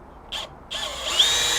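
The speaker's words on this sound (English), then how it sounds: "I'm going to change my torque setting to 9, and I'm going to use a 2-inch screw." Milwaukee M12 hammer drill/driver driving a 2-inch screw into a 2x8 wooden board at torque setting 9, with a short whir, a pause, then a sustained close motor whine that rises slightly in pitch.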